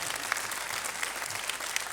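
Audience at a live release party concert clapping steadily, a dense, even wash of applause with a few sharper claps standing out, no voices.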